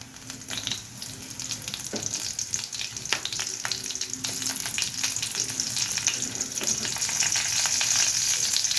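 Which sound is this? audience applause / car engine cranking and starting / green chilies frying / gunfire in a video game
green chilies frying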